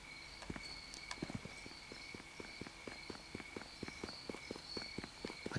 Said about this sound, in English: I can hear footsteps very loudly approaching towards me